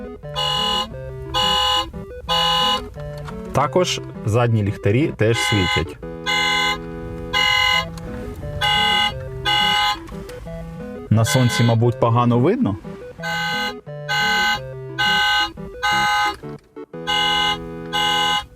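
A spring-driven toy car powered by LR44 button batteries plays a loud run of electronic horn toots and melodic beeping from its steering wheel, repeating in bursts while someone talks over it.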